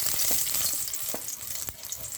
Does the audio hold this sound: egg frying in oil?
yes